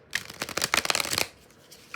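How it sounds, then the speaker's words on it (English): A quick riffle of tarot cards being shuffled up close, a crisp rapid flutter lasting about a second, then quiet. "I'm going to shuffle my cards"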